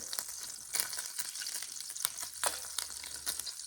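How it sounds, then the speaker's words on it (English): Butter melts and sizzles in a pan, a soft, fairly quiet frying hiss with occasional louder spits and crackles. "into the butter, we're going to let that melt a little bit"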